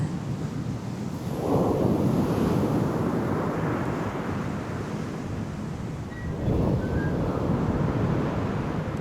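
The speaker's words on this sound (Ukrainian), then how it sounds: "І ви чуєте море" Broad rushing surf fills the scene, swelling as waves roll in twice, with steady wind noise throughout and no voices.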